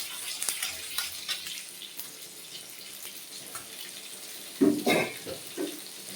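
Panch phoron, a Bengali five-spice mix, sizzles in hot oil alongside dried red chillies while cooking lau and masoor dal; a steady hiss runs throughout with a louder crackling burst near the end.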